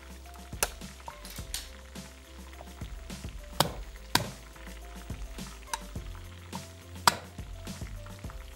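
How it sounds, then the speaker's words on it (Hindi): Garlic and ingredients cooking in a home kitchen pan, a low steady sizzle running throughout with repeated sharp clacks and knocks of utensils at irregular intervals, fairly quiet overall. "अब ये यहाँ पे फ्राई का अमल हो रहा है जनाब।"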